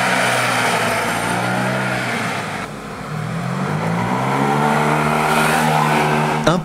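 A Yamaha T-Max scooter engine accelerates hard from a standstill, its drone rising steadily in pitch, dipping briefly as it shifts, then climbing again, loud and close with no voices.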